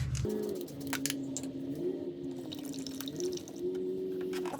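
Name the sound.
motor oil pouring into car engine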